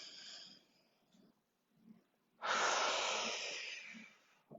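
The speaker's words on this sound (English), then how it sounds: "Let's take one more big breath." A single deep breath taken during a home core and stretching workout, a long loud exhale rushing out after a few quieter breaths, close to the microphone with no talking.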